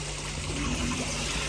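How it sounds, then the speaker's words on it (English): A koi pond's uncovered bottom drain bubbles and trickles steadily, a close, continuous watery gurgle running alone with no talk. "bottom drain's just bubbling because I ain't got the bottom drain cover on"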